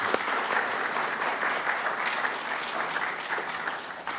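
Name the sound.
audience applause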